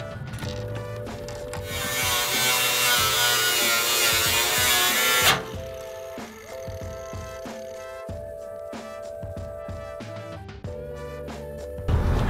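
A power tool cuts into a Chevy Silverado's factory bumper to fit a Mazzulla bumper, first a loud, dense grinding screech, then a steadier whining hum with tonal buzzing and brief scraping bursts.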